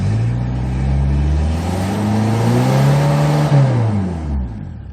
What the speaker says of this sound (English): Let's try to accelerate now.